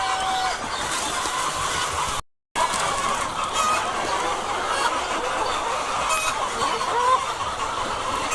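Sonali chickens on a poultry farm cluck and call in a dense, steady din throughout, with a brief gap of silence partway through.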